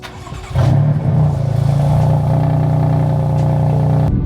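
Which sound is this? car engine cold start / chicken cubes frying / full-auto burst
car engine cold start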